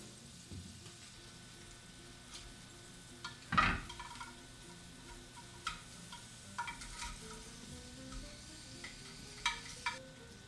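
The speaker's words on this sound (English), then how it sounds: "Now we'll take them out and turn them over, do the other side." Roast potatoes sizzle and crackle in a hot oven tray as they are turned over, a steady low frying hiss broken by a sharp clatter of utensil on metal and scattered light ticks, close by with no talking.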